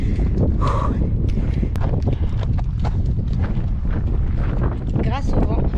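Strong wind gusts across open sand dunes on Fuerteventura during a desert half marathon, roaring continuously into the microphone with rustling and buffeting throughout.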